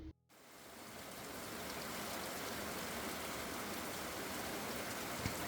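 Steady, dense rain falls outside an old farmhouse during Storm Nils, a constant hiss that swells in after a brief quiet start and continues unbroken and fairly close.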